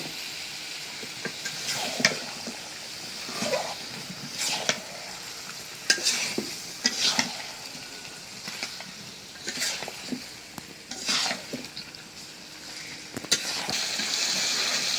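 Meat and potatoes are stirred and fried together in a pan. Repeated scraping strokes sound near and fairly loud over a continuous sizzle, with no talk.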